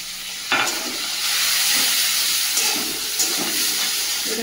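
Food frying in a pan of onions and whole spices gives a loud, steady sizzling hiss up close, punctuated by a few scraping stirs of a spatula.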